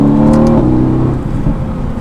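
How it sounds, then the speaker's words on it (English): A 2018 Mercedes-AMG GT C Roadster engine blips up sharply on a downshift rev match with pops, then settles into a throaty, burbling exhaust note; close and loud. "It does a nice rev match and some pops."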